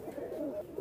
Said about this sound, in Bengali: ভাই এই দুইটা হলো রয়্যাল টেডি কবুতর